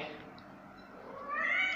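A mother cat meows close by in a drawn-out, rising call that swells louder toward the end, over a quiet background with no talking.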